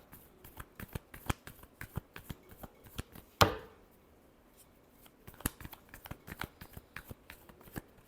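Tarot cards are shuffled by hand in a steady run of crisp, close riffling clicks, with one sharper bridge-like flutter partway through, and no talking.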